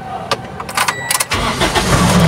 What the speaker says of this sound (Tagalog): Painitin muna natin ng konti yung makina